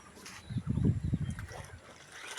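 Soap water mixed with turmeric powder is poured into a sprayer machine to make an organic pesticide for papaya plants, a quiet, close gurgling trickle that swells and then fades over about a second.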